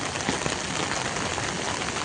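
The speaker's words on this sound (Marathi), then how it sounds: "आज आणि आता वाजलेत 5 वाजलेत आणि पावसाचा धो मुसळधार पाऊस कोसळतोय" Heavy monsoon rain pours down on farm fields in Gangechi Wadi, a loud, constant hiss of drops striking surfaces close by, with no talking.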